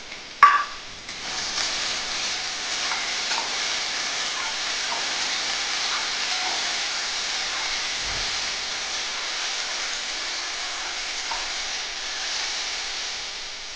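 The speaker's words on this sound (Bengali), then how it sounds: "ছোটো ছোটো দুটো টমেটো কেটে রেখেছি কুচি কুচি করে, এটার মধ্যে দিয়ে ভেজে দিচ্ছি।" Finely chopped tomatoes fry with spices in a pan, making a steady close sizzle and hiss with a sharp burst at the start as they hit the hot oil, then faint stirring scrapes.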